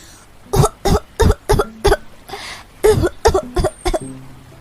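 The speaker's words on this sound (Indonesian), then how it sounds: "terbatuk-batuk karena air yang masuk ke dalam tenggorokannya" A series of harsh, wet coughs from someone who swallowed river water, in two bursts with a short pause between, close and loud, ending in a sputter.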